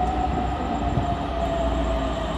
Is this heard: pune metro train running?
yes